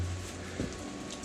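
Rain patters steadily on the glass of a greenhouse, a soft continuous hiss with a few slightly sharper drops, heard briefly and fairly quietly with no talking.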